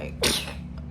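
A single short sneeze bursts out close to the mic over a steady low background hum.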